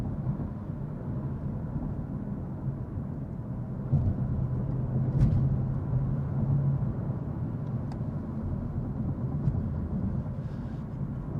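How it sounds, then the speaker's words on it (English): Steady low road rumble inside a 2023 BMW M850i Coupe driving over rough pavement, a continuous broadband drone with a few faint thumps, no talking. "the road noise isn't too bad"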